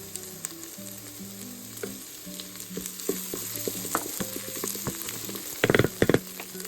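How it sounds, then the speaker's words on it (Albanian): Tomato sauce with garlic sizzles and bubbles steadily in a hot pan, with scattered clicks of a utensil and a short burst of louder scraping near the end. "Pasi e lanë salcën skuqet mirë 2-3 minuta"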